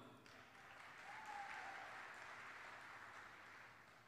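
A graduation ceremony audience claps steadily, a soft even wash of many hands that swells slightly and continues throughout, heard from some distance.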